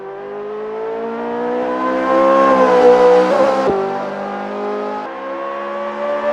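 A Ferrari F355 engine in Assetto Corsa drives an out lap at the Tortuoso track. The loud, close engine howl climbs in pitch, drops suddenly at a gear change, then builds again.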